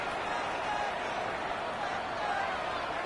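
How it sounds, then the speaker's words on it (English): Dense stadium crowd noise at an NFL football game with the Kansas City Chiefs driving deep in the red zone, a steady, loud wash of massed voices with no distinct peaks. "This crowd is making it tough down deep in the red zone"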